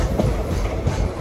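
Simhadri Express train running on rails, a loud close rumble with rhythmic clickety-clack wheel beats heard from inside the moving carriage.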